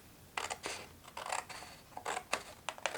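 Scissors snip through inkjet-printed paper in a quiet room, several short crisp cuts in uneven bursts, close and alone.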